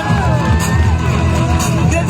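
Loud, dense crowd applause and cheering at a ceremony welcoming officials on stage, a continuous roar of clapping with whoops filling the whole moment.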